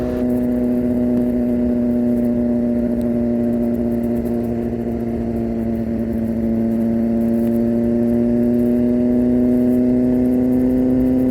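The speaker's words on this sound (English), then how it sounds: "I want you to hear the bike noise because this bike sounds so awesome with this SC Project exhaust." BMW S1000RR sport motorcycle fitted with an SC Project exhaust, holding a steady, loud engine drone with a slight pitch dip in the middle. No voices are heard.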